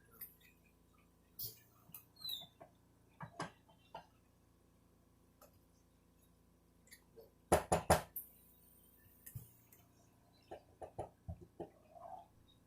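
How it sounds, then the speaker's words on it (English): Someone knocking on a hard surface: scattered sharp raps, single and in small clusters, with a loud burst of several knocks near the middle, in an otherwise quiet room. "That's me knocking."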